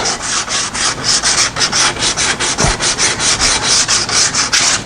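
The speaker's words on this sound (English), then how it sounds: "I'll do a light sanding here along this edge." Steady back-and-forth light sanding along the edge of a wooden plaque, close and continuous, with a rhythmic rasping stroke repeating about every quarter second.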